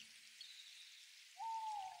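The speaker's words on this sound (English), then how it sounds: "The easy hoot of an owl, perched high in the branches" An owl hoots once from high in forest trees, a single clear sustained call rising out of a soft rain-like hiss that fills the background.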